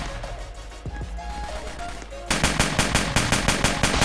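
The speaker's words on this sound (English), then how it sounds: "so I decided to get the AK-47" Rapid automatic AK-47 fire in a Roblox game, a dense run of loud, evenly spaced shots that begins partway through after quieter game sounds and continues steadily to the end.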